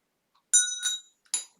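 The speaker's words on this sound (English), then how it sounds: "Move that bell over." A small bell being moved across a table during a tarot reading, giving two bright metallic rings in quick succession followed by a softer third chime, close and clear with no talking.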